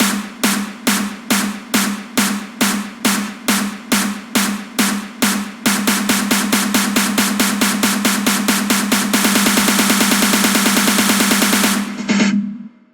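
A snare drum sample in music production, struck alone in a steady repeated pattern, crisp and close, then switching to a faster rapid roll that builds to a dense continuous burst before stopping abruptly.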